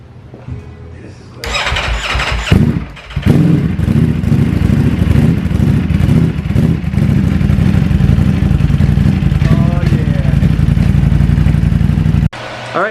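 A Ducati V4 Panigale motorcycle is cranked and fires up with a sudden loud roar, then settles into a rough, throbbing idle close by for around ten seconds before cutting off.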